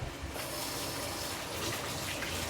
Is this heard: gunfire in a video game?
no